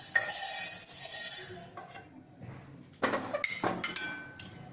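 Cooled roasted poha is scooped out of a pan, a series of scraping and clinking utensil strokes against metal with short pauses between them.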